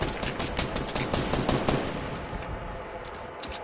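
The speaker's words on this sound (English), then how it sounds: "do you hear this gunshot?" Gunfire in Fortnite, a clattering stream of rapid shots and bursts, fairly distant and faint, fading toward the end with a few scattered shots, no talking.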